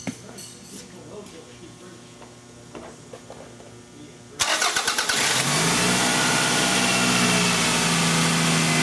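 A Toyota car engine with an EGR insufficient-flow fault is started and settles into a steady running idle, loud and close, after a stretch of quieter workshop sound.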